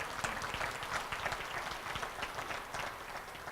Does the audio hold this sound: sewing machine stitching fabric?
no